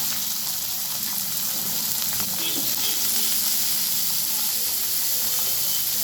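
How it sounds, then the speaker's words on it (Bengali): Potatoes hit hot oil already tempered with cumin seeds, slit green chillies and bay leaf, giving a loud, steady sizzle and hiss that runs continuously from start to finish. "এবার দিয়ে দিলাম জিরে ফোড়ন, আর দিয়ে দিলাম চেরা কাঁচা লঙ্কার তেজপাতা, দিয়ে আমি আলুগুলো দিয়ে দিচ্ছি"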